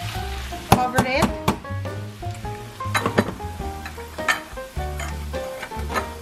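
Steady sizzling of saba bananas frying in a pan, with clinks and clatters of utensils against the pan, close by, and some brief knocks scattered throughout.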